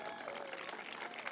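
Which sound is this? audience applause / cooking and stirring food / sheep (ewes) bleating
audience applause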